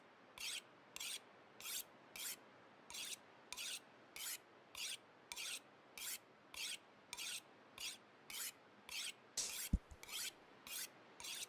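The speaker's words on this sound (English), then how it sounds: "let's start sharpening our knife" A knife is sharpened on a whetstone in the video game The Long Dark, heard as a steady series of about eighteen crisp rasping strokes, evenly spaced and fairly quiet, with no talking.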